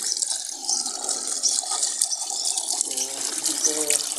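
Fresh water poured into a chickens' bowl in a village yard after cleaning it, a steady close splashing and trickling for about four seconds, with faint voices in the background.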